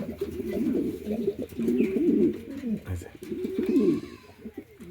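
A pair of white pigeons cooing in a loft, a steady run of low warbling coos close by, with someone talking over them at times.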